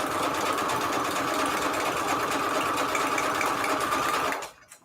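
A domestic sewing machine running a wide zigzag stitch through a patchwork junk journal page, a steady, continuous close-up whir that holds for over four seconds and then stops abruptly.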